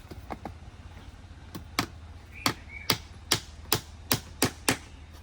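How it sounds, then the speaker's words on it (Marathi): Nails are hammered into a wooden box for packing Alphonso mangoes, a series of about a dozen sharp knocks, sparse at first and then in a steady quicker rhythm, moderately close with a quiet background and no speech. "हे बघा पप्पा इथे चुका ठोकत आहेत"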